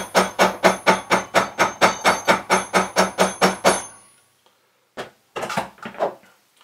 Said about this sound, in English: if we take the cobbler's hammer, flatten this down